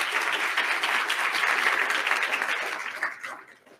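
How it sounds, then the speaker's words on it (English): An audience at a corporate social responsibility event claps in a sustained round of applause that stays full and even, then thins and fades out near the end. "Can we give them a round of applause?"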